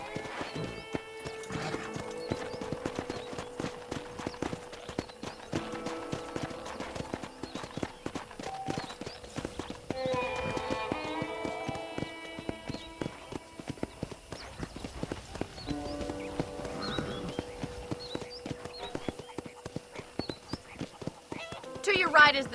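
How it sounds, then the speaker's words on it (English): Horse hooves clip-clopping at a steady walking rhythm in the Red Dead Redemption video game, continuous and moderately loud beneath a man's speech and game music, ending with a louder thump. "I picked out a fine horse for you."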